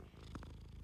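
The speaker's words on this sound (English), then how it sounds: "thank you for that purr, Tam, right on cue." A pet cat purrs softly and close by, a faint brief rumble with a couple of small chirpy pulses, no talking over it.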